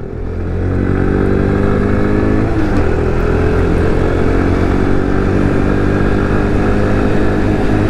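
An X-pro Vader Honda clone motorcycle, nearly new, is ridden hard with a loud, steady engine drone that holds close and constant throughout, with a slight dip and rise in pitch partway through.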